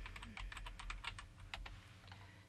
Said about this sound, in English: I am clicking my enter or return key after each time I type something into any field